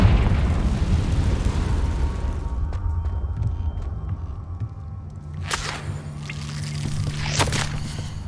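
A Confringo fire spell is cast in Hogwarts Legacy, opening with a loud roaring blast that fades, then fiery whooshing bursts crackle in the background, with no talk.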